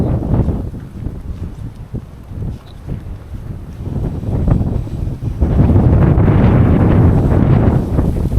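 Wind buffets a microphone in open wetlands on a late afternoon walk, with gusty low rumbling that swells and grows heavier toward the end, no voices.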